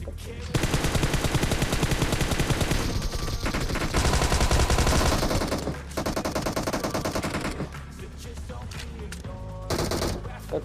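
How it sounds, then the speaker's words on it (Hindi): Sustained gunfire from a squad in BGMI, dense rapid automatic bursts with brief pauses, loud and continuous across the clip. "वो एक एक एंगल से हम पर फायर कर रही थी।"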